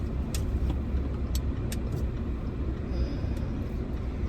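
Car moving slowly while parking, a low steady engine and road rumble inside the cabin with a few faint clicks and taps, no talk.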